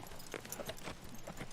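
Hooves of a silver horse with a dark face clip-clop at an even walking pace, faint and somewhat distant under a busy, noisy background.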